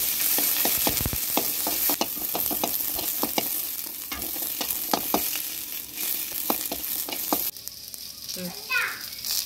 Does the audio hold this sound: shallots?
yes